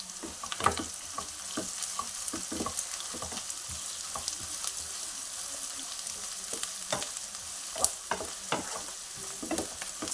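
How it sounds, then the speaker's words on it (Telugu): Onions and bitter gourd pieces fry in a pan, giving a steady close sizzle broken by frequent sharp spatters and spoon-against-pan stirring clicks, with no voices. "ఉల్లిపాయ ఇట్లా మంచిగా వేగింది కదండి"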